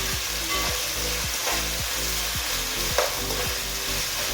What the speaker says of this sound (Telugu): ఈ అల్లం వెల్లుల్లి పేస్ట్ కొంచెం స్మెల్ రాకుండా ఉండేంత వరకు లైట్గా ఒక 2 minutes ఫ్రై చేసుకున్నాను